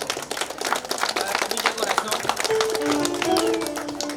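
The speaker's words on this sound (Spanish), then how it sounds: "¿Dónde están las palmas?" Scattered clapping from family and friends at an indoor birthday celebration, a dense patter of hand claps mixed with chatter and voices, with a brief sustained tone near the end.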